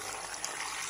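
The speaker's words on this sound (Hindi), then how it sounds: "और ये जो है इसमें मैं नया पानी डालूंगी।" Fresh water pours steadily into a bowl of washed amla (Indian gooseberries) during home preparation of amla murabba, a continuous close splashing trickle with no talk.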